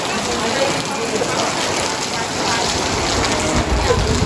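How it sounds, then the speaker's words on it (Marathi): Heavy night rain pours down on people queuing outdoors for temple darshan, a steady, dense broadband roar that stays loud and constant throughout, with a voice faintly present underneath. "खूप जोरात पाऊस चालू झाला इथे बघू शकता"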